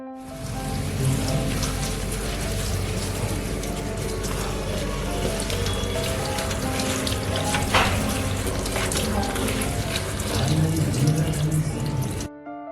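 Herbs and aloe vera washed under running tap water in a vessel, a loud, close, continuous splashing rush with small clinks, holding steady until it stops near the end.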